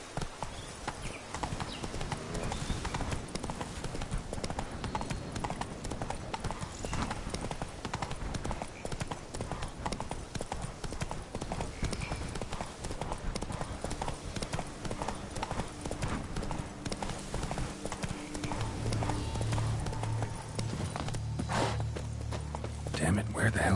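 A horse gallops in The Witcher 3, a dense and continuous clatter of hooves under music and game ambience, with voices talking over it.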